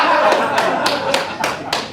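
Hands clap at a live comedy show at the Blue Room, six sharp, evenly spaced claps in a quick steady rhythm, close and crisp, with a voice talking underneath.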